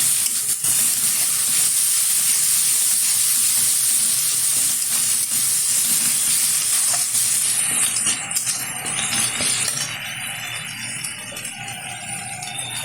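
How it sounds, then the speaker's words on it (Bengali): Garlic and ginger paste sautéing in a pan for a potato and dried fish curry, a loud continuous sizzle and hiss with occasional stirring scrapes, easing slightly toward the end, no talk. "ভালোভাবে কষিয়ে নেব।"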